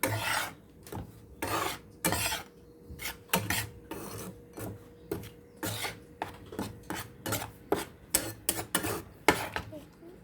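Roasted rice flour being stirred in a pan to cool it, a dry scraping and rasping of the utensil against the pan in repeated irregular strokes, close and fairly quiet, with no talking.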